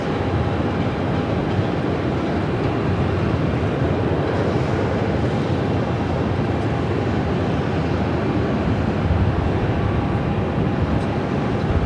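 A passenger jet taxiing at Phoenix airport, a loud, steady rumbling engine roar that holds constant throughout with no speech.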